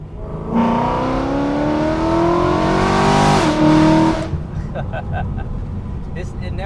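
A tuned BMW E93 M3 convertible's V8 revs hard through a part-throttle pull, a loud rising engine note climbing steadily for about four seconds before cutting off abruptly, leaving faint road noise.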